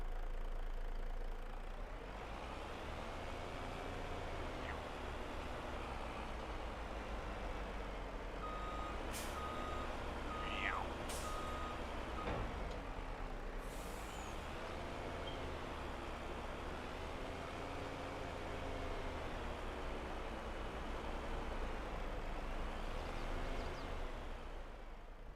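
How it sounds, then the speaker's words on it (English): Trucks in the video game Silverrun Forest: engines drone steadily and low throughout, joined by a few sharp clanks and short beeps partway through, with no talking. "Let's get these trucks running"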